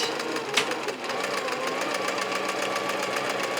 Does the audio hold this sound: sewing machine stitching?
yes